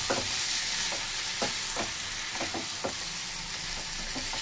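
A potato curry with Maggi masala and a splash of water sizzles in a pan while a spoon scrapes and mixes it in quick, repeated strokes, loud and close with no talking.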